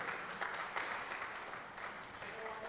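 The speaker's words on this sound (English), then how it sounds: "a round of an applause" Audience at a BAOSA 98 master class gathering applauding, a continuous crowd of clapping with individual sharp claps poking through, moderately loud and steady, with faint murmur underneath.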